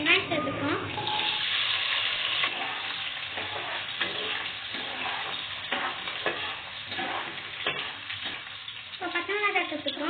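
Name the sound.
mustard seeds and fenugreek spluttering in hot oil, onion frying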